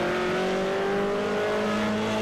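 Rally sprint race car number 17 on a twisting Bulgarian stage, its engine holding a steady, loud, droning tone with only slight pitch drift and no pause.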